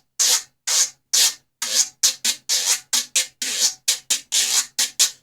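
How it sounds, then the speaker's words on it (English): A guiro, the Latin percussion instrument used in salsa bands, is held upright and scraped back and forth, giving a clear series of about fifteen raspy strokes in a regular rhythm with long and short notes and brief gaps between them. "if you ever watch a player play guiro like in a salsa band or something, they hold the instrument upright and then scrape back and forth"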